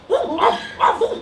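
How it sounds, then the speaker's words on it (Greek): Several dogs bark wildly in a residential neighbourhood of detached houses with gardens, a few sharp bursts in quick succession, fairly clear rather than very distant. "ακούγονται άγρια γαβγίσματα."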